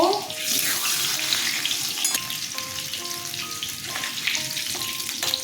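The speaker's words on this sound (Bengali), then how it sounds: "মেথি আর মৌরি ফোড়নে দিয়ে দিলাম, আম দুটো ছেড়ে দিলাম, আমগুলো ভেজে তুলে নেব।" Mango pieces frying in a fenugreek, fennel and green chilli tempering: a loud, continuous hissing sizzle with bubbling, steady throughout and close up, no speech.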